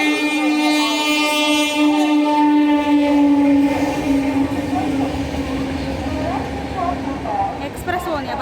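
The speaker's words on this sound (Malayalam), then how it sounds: "എക്സ്പ്രസ് പോകുന്ന ഭയങ്കര സൗണ്ട്" An express train passes with a sustained horn-like tone and a rumbling, rattling roar of wagons that lingers near and loud, with some voices mixed faintly underneath.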